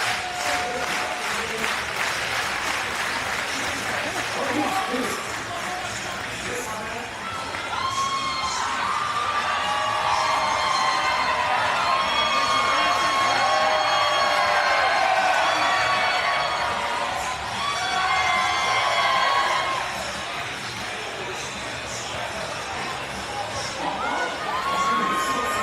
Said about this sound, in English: We'll give you a look at this sold-out crowd.